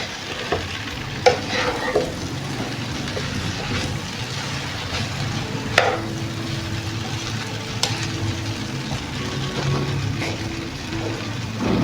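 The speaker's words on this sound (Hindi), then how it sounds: "इसको अच्छे तरीके से हिला लेना" Chicken and vegetable chowmein noodles stirred and tossed in a hot pan, with a steady sizzle throughout and scattered scraping clinks of the utensil, fairly close and with no talking.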